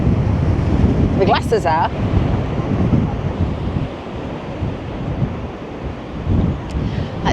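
Strong gusts buffet the microphone over steady crashing surf on the exposed Blackpool seafront, a loud continuous roar of wind and big waves, with a brief spoken remark early on.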